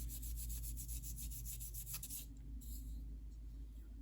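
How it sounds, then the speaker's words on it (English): Scotch-Brite pad scuffing a smooth surface on a Viofo A119 V3 dashcam suction cup mount, giving a steady close abrasive rubbing for about two seconds, then softer, sparser scraping. "I am going to go ahead and scuff it up a little bit with this Scotch-Brite pad right here first"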